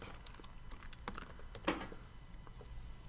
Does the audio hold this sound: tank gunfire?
no